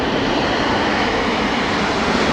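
An airliner approaching to land at London Heathrow in strong storm winds makes a loud, continuous, broad engine roar that holds steady and mixes with wind rush, with no voices.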